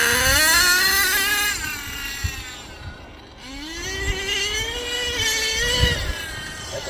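Nitro HPI Savage RC truck with a 3-speed gearbox revving hard, its whining engine pitch climbing, dropping briefly at a gear change, then rising again, loud and close.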